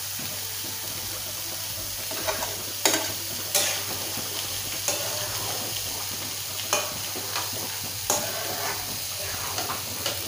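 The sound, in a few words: frying and stirring food in a pan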